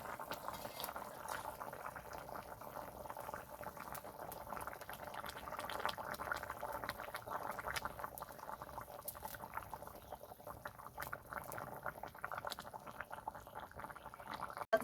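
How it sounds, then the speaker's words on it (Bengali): A thin rohu fish curry broth with potatoes boils steadily in the pot, giving a continuous close bubbling and simmering texture throughout, with no talking. "দেখুন বন্ধুরা, ঝোলটা ফুটে উঠেছে।"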